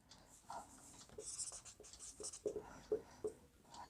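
Chalk or pen writing in quick strokes on a board or paper during a class 9 maths lesson on triangles, a series of short scratchy marks, close and fairly quiet, with no talking.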